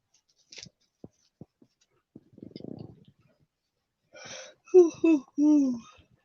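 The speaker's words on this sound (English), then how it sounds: "That was a yawn." A few soft clicks and a breathy rush, followed by a long, drawn-out vocal yawn that rises and falls, fairly close.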